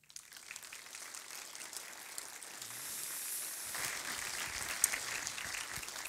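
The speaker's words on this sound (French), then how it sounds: "sous vos applaudissements" An audience applauds at a science conference on deep-sea exploration, dense clapping swelling and growing louder midway, continuing steadily without any talking.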